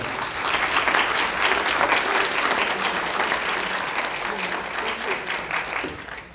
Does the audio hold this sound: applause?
yes